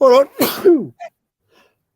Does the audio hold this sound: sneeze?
yes